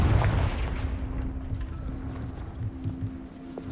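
Confringo fire spell cast in the video game Hogwarts Legacy, a single explosive blast at the start that rolls off into a fading, rumbling tail.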